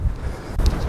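Wind gusting at an empty beach, a low rumbling buffet against the microphone with two stronger gusts, steady and fairly loud with no voices.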